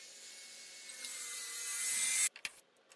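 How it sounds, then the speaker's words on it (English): Metal pieces are cut in a workshop, a sustained rasping, sawing grind that builds steadily for about two seconds and then stops, followed by a few short knocks, with no talking. "I'm just going to use these pieces of metal and cut them"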